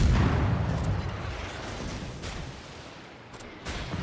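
Naval guns of the destroyer USS Benson firing in World of Warships, opening with a heavy loud blast that rumbles away, followed by a few sharper distant shots near the end.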